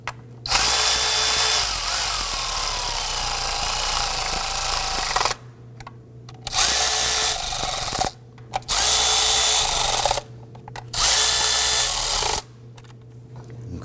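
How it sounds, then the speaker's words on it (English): Power tool driving down the valve cover bolts on a 2008-2011 Ford Focus engine, running in four loud, close bursts of a few seconds each with short pauses between them. "And let's go ahead and snug these bolts down."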